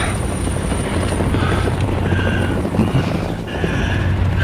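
In a video game, a military helicopter keeps up a loud, continuous rotor drone with a thin high whine above it, steady and near, with small fluctuations in the low thrum and no one talking.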